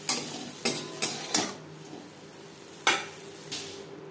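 Prawns frying lightly in oil in a pan. A soft background sizzle runs under about six distinct scraping stirs of a utensil against the pan, spaced irregularly and heard close by.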